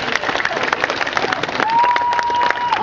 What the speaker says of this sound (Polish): wielkie brawo dla was